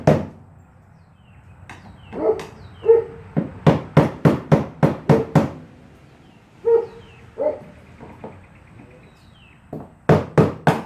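Plastic hammer and flathead screwdriver seat a part on a Chevy truck fuel system: sharp, close taps come in quick bursts, a run of about six evenly spaced strikes, then a pause and a final quick cluster of blows.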